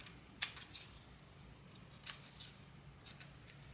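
Small scissors snip through miniature paper greens with stems, in a few sharp, close cuts spaced apart against quiet room background.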